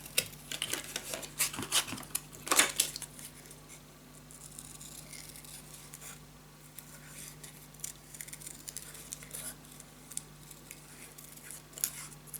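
Scissors cut out paper crafting pieces for a fairy treehouse keepsake box, with clustered snips early and sparser crisp cuts and paper rustling after, close and moderately quiet.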